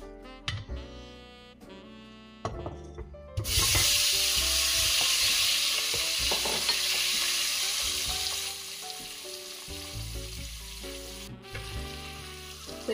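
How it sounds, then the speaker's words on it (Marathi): Boiled eggs frying in oil with turmeric and salt for egg biryani, a loud close sizzle that bursts in after a few seconds of quieter clinks and then hisses steadily, easing slightly toward the end. "अंडे चांगले आपल्याला तेलामध्ये परतवून घ्यायचे"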